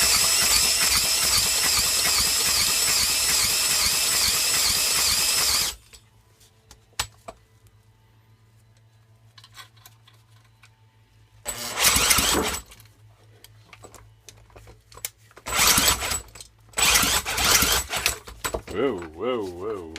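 A 1987 Snapper mower engine with no muffler and no blade fitted roars loud and raw for about six seconds, then cuts out, leaving scattered clinks and rattles and voices nearby.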